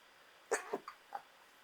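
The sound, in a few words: suppressed sneeze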